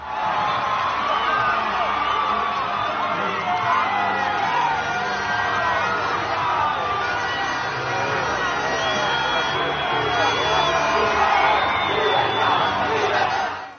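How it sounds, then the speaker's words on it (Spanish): Crowd of thousands in Venezuela cheering and shouting for María Corina Machado, a dense, continuous roar of voices, whoops and applause filling the whole stretch at steady high volume. "la líder aplaudida por miles de personas que la rodeaban"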